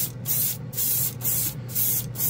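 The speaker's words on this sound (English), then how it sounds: "pearl blue spray can" A pearl blue spray can of glaze paint hisses out paint in five short bursts with brief pauses between, close and steady.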